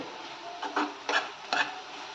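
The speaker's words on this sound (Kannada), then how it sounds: "ಈ ಮೆಂತ್ಯ ಸೊಪ್ಪೆಲ್ಲನೂ ನೀಟಾಗಿ ಒಂದ್ಸಲ ಫ್ರೈ ಮಾಡ್ಕೊಳ್ಳಿ" Fenugreek leaves frying in a pan for a capsicum and potato curry: a soft background sizzle broken by three or four brief scraping stirs of a spatula, with no talking.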